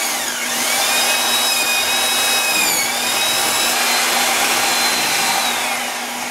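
Electric power mixer stirring freshly crushed grape wine must in a homebrew batch, a loud, steady high whine that holds for several seconds with a slight pitch wobble midway.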